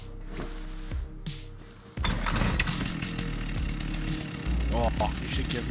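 A chainsaw revs in the video game Rust, a rough, buzzing engine drone that starts abruptly and keeps running loud with game clatter, while a voice speaks now and then.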